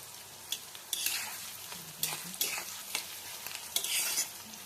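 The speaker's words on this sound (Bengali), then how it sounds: "আমি একটুখানি পটলগুলোকে তেলে নেড়ে নিই" Pieces of pointed gourd are stirred in hot oil for a bharta, a sizzling hiss broken by repeated scraping sweeps of a spatula at irregular intervals, close and moderately quiet, without talk.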